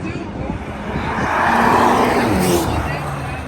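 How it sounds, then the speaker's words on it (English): Tesla and Audi cars race side by side at Freedom Factory spectator drags, a steady engine and tire roar swelling to a peak midway through amid crowd babble. "the Tesla gets an amazing launch off the line. That inside line, the Audi's coming in behind him"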